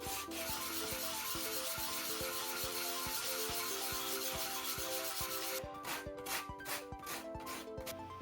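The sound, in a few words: sanding a wooden model ship hull with 80-grit sandpaper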